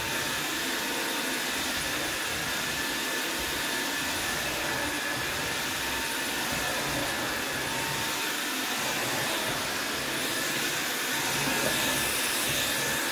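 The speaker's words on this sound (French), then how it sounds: "C'est vraiment un plaisir de passer cet aspirateur." Jimmy PW11 Pro Max cordless wet-and-dry vacuum washer runs steadily at close range, a loud continuous whirring hiss with no pauses for the whole stretch.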